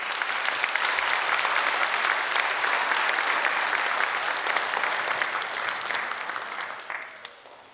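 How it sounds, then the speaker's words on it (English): An audience at a 7th grade school band spring concert claps steadily for several seconds, a dense, loud wash of applause that gradually tapers toward the end. "A round of applause for the Division I."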